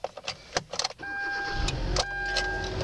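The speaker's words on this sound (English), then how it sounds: "So I will turn the car on for you." A Kia car engine turns over and starts after a few clicks, then settles into a steady idle with a faint electrical whine, heard up close inside the cabin.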